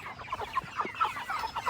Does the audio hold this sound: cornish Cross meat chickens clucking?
yes